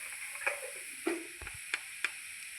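Kashmiri chili powder sizzling in a pan while an egg roast is cooked, a soft sizzle under several sharp clicks and scrapes of a spoon against the pan, no talking.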